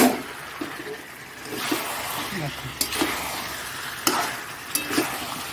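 Pre-fried potatoes going into skin-on chicken curry in a pan, with a steady frying sizzle and several scraping stirs and clanks of the spoon, moderately close.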